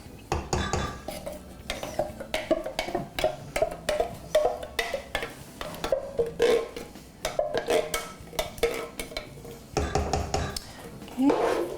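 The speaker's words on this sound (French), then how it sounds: "Mélanger encore pour que ça soit rosé." Crushed tomatoes being stirred into creamy ricotta pasta in a pot, with steady, close clinks and scrapes of a spoon against the metal in a quick, repeated rhythm and some soft squelching.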